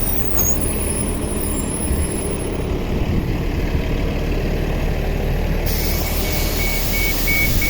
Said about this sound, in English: So that's the bus.